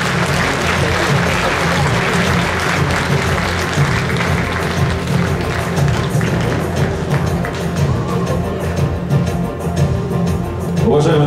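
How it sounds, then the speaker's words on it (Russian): Audience at a Moscow gathering of Afghanistan war veterans applauding award recipients, loud continuous clapping throughout, with background music and crowd noise mixed in. "еще раз аплодисменты в адрес всех награжденных сегодня"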